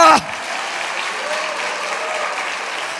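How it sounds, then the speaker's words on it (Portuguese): Church congregation applauding during an early-morning worship service, a steady broadband wash of many hands clapping that follows a brief voice at the start and continues evenly to the end. "Quem pode aplaudir Jesus nessa madrugada"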